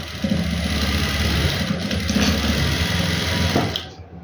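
A sewing machine stitches gum lace onto fabric with a steady, close mechanical whirr that runs unbroken for about four seconds, then cuts off at the end. No voices.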